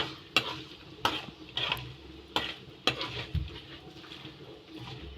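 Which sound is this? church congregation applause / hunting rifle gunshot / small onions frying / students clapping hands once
small onions frying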